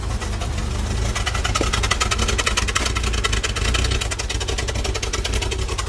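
A cheap $100 track car idles with a steady, low, bubbling engine note. The check engine light is on and the map sensor is missing. The sound is close and continuous, with a fast pulsing rhythm and no voices.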